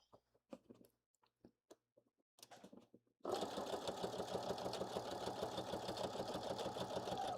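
Soft clicks and handling noises give way to a sewing machine running steadily at a controlled speed while stitching a dart in a blazer sleeve, close up and continuous, with a constant whirring hum.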